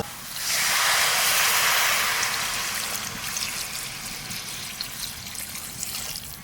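Water is poured into a hot pan of browned chicken curry, setting off a loud rushing hiss that peaks early, then settles into a softer, steady bubbling sizzle.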